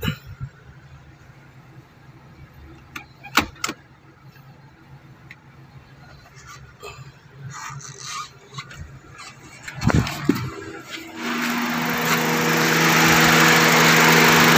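A 2015 Honda City engine, with a loose ignition coil connection, idles under full electrical load with the lights on. Its steady hum is joined by a few clicks and knocks, then swells into a louder, brighter running noise near the end.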